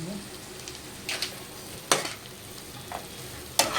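Chicken curry being stirred with masala and salt in a frying pan: a soft, steady sizzle broken by a few scraping stir strokes and clinks, with no one speaking.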